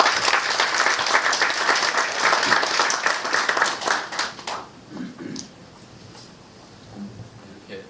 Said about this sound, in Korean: 시장님 뜨거운 박수로 모시겠습니다.